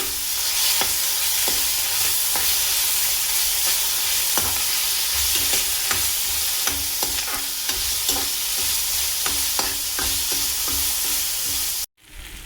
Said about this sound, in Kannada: ಇದಾದಮೇಲೆ ಹೆಚ್ಕೊಂಡಿರೋವಂಥ ಈರುಳ್ಳಿನ ಹಾಕ್ಕೊತಾ ಇದ್ದೀನಿ. ಇದಕ್ಕೆ ಸ್ವಲ್ಪ ಜಿಂಜರ್ ಗಾರ್ಲಿಕ್ ಪೇಸ್ಟ್ ಕೂಡ ಹಾಕ್ಕೊತಾ ಇದ್ದೀನಿ.